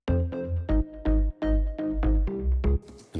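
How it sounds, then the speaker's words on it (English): A full synth bass line with heavy kick drum pulses from a remake of a dance track, playing alone in a steady pumping rhythm of sustained bass notes with a brighter tail at the end. "So the total bass line sounds like this."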